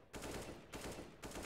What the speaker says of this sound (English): where I just shoot bots